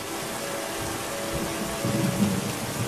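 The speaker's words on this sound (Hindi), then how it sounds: "कुछ दिनों बाद बहुत तेज बारिश होने लगी" Heavy rain pours steadily with low rumbling thunder underneath, a dense, continuous wash of sound with no voices.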